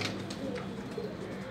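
Domestic pigeons kept in a loft give soft, low cooing calls that repeat steadily over a constant background hum.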